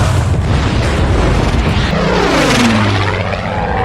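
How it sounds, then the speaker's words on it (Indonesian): Loud propeller engines of Japanese fighter planes in a film roar and drone overhead, with a descending pitch sweep as the planes pass, dense and continuous with no voices. "muncul beberapa pesawat tempur Jepang melakukan perlawanan sangat sengit"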